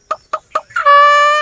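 A pet common myna gives three short clucking calls, then a long, steady, bright whistled tone like a blown conch shell, close and clear, with no talking.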